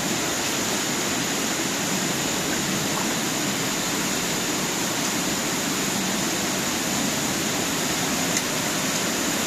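A waterfall roars in a Dolomite canyon, a dense, unbroken rush of falling water at close range that stays loud and steady throughout, with no voices.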